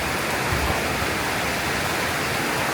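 Heavy tropical rain during Thailand's rainy season, with water spraying: a dense, constant roaring hiss that stays loud and even from start to finish.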